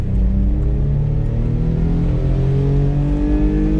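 A Honda Acty mini truck's small engine revs high while driving, a loud steady drone whose pitch climbs gradually as the revs rise, with no talking.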